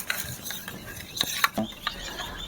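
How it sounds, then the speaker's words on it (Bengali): A spoon stirs milk powder into milk in a pot, producing irregular clinks and scrapes against the metal with soft swishing between them, close and moderately loud. "ভালো করে গুলে নেব।"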